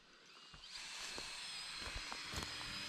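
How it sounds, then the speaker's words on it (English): A high-pitched power drill whines continuously, nearby, drilling holes in metal roofing for a cabin build, with brief clicks and knocks of work sounds underneath. "He's drilling some holes."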